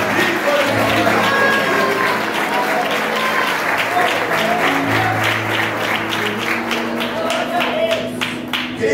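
A church congregation applauding at a Pentecostal-style service, steady dense clapping filling the room for several seconds, with a preacher's voice and background music running underneath.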